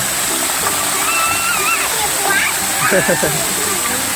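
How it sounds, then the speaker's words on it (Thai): A waterfall splashes steadily into a warm-water resort pool, a constant rushing wash of water close by, with children's voices and excited chatter rising over it. "นี่มีน้ำตกด้วย"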